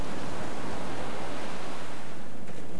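Ocean waves surge and break around sea stacks, a dense, steady roar of surf filling the scene without pause, loud and close with no voices.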